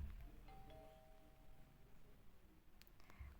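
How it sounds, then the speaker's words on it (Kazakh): A doorbell in an animated series chimes once with a clear, sustained electronic tone over a low background, then fades. "мен звонокты басайын"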